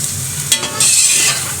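Peas and rice for chicken pulao being stir-fried in a pan, a steady loud sizzle with scraping stirs, briefly intensifying partway through.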